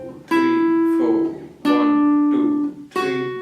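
A beginner-level guitar plays a simple major-key melody, with three clearly plucked notes ringing out one after another, each sustaining and fading before the next, close and alone.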